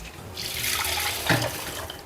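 Water pours steadily onto washed rice and urad dal in a bowl for soaking, ahead of grinding batter for Kanchipuram idli; a continuous close splashing rush with a brief heavier gush midway, no talking.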